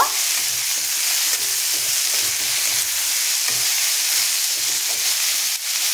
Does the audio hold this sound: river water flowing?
no